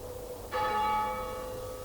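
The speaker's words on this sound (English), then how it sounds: "It's the bell. Someone's in the church." A church bell rings once, a clear struck tone with a long humming decay, moderately distant and alone.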